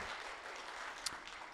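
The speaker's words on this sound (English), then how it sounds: "Give her a round of applause." A round of applause from an audience, faint and steady throughout, a dense wash of claps with no distinct individual hits.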